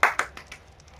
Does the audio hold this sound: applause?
yes